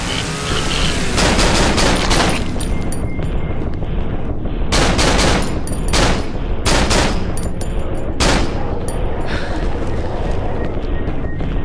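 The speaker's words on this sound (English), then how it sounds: "I'm just gonna fucking shoot at the eyeball" Gunfire in the horror video game Cry of Fear, with loud, sharp shots in clusters and bursts spread through the span, some in quick runs and others standing alone, mostly without talk.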